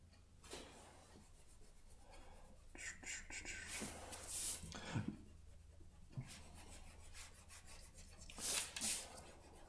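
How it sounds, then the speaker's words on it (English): Pen eraser rubbing out pencil lines on drafting paper, a soft, close scrubbing that comes in repeated bursts with brief scratchy strokes over a faint background hum. "I got my pen eraser here, and I'm just gonna clean up some of these lines"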